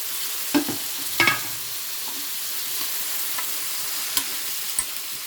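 Bitter gourd pieces stirred into a pan of softened onion and green chillies, a low steady frying hiss with a few sharp spoon scrapes and clinks against the pan.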